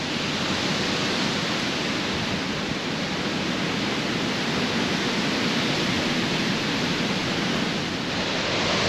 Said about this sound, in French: je suis désolé pour le vent